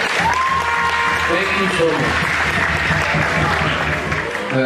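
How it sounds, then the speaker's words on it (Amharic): A crowd at a summer class graduation gives warm, sustained applause, dense and close, with voices murmuring underneath and a brief tonal sound near the start. "ለወላጆቹ በእውነት ሞቅ ያለ ጭብጨባ ያስፈልጋል"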